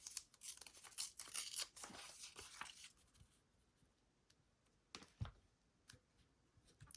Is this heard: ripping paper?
yes